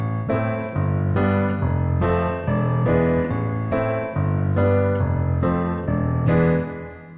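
Rhythm and blues piano with left-hand octaves alternating low and high in a bouncing steady pulse under chords, played alone, close and clear.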